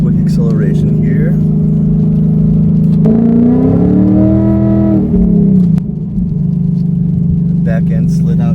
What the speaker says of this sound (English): do a quick acceleration here